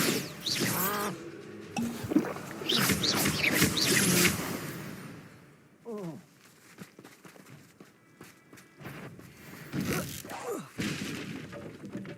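A Bombarda explosion spell goes off in the video game Hogwarts Legacy, giving sharp shattering bursts among footstep-like thuds, with voice-like sounds around them.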